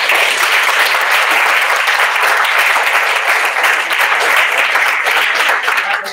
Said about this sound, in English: Let's give it one last clap.